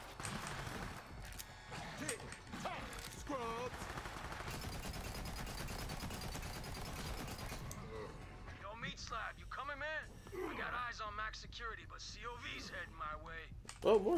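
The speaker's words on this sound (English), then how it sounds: "I hear explosions and pops in the background just going off" Gunfire pops and explosions from a Borderlands video game session keep going off in the background, dense and continuous, mixed under the players' voice chat throughout.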